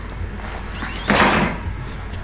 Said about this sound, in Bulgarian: затвори вратата.